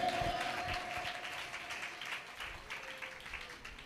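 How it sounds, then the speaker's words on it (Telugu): An audience at a church sermon claps and applauds, a fairly faint sustained patter of many hands, with a low voice briefly underneath. "చప్పట్లు కొట్టండి."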